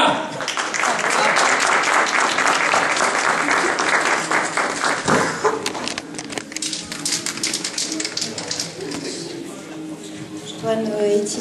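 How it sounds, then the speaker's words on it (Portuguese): An audience at a poetry evening claps for a performer, a lively burst of applause that thins after about five seconds into scattered claps and quieter room sound with faint voices. "Palmas para a Natália!"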